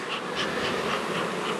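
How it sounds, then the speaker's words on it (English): Honeybees fanning and buzzing at an open hive, a dense, steady drone close by with the hum rising and falling gently, no voices. "you can also feel the breeze that the bees make as they're fanning."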